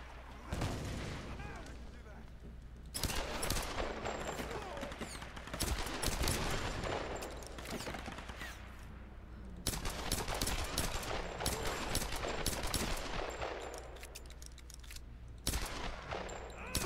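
Gunfire in the Tomb Raider (2013) video game: dense bursts of automatic and single shots in loud, sustained stretches broken by short lulls, with talk mixed in.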